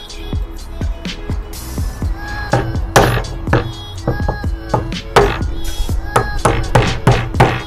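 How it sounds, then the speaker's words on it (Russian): Metal part being hammered into a hole while building a homemade reusable spray canister: a rapid irregular series of sharp, close metallic knocks and taps, some ringing briefly. "теперь нам надо его забить в это отверстие"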